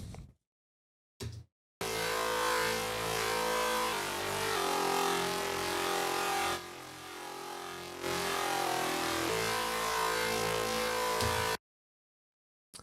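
A bright, buzzy lead synth in a metal mix plays sustained notes over a dense mix, stopping briefly midway, then cutting off abruptly into silence.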